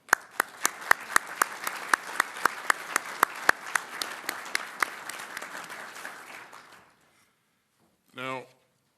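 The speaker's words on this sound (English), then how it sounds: "Let's give them all a round of applause." Audience applause for Ukrainian leaders at a Ramstein defense meeting: dense, steady clapping with sharp individual claps for about seven seconds, then cutting off to silence before a brief voice at the end.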